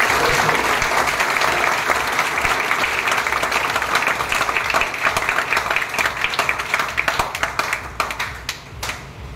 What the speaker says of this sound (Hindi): तो ताली बजाना